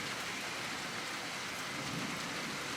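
Thunderstorm rain falls steadily on surfaces outside a doorway, giving an even, dense hiss throughout at moderate level with no voices.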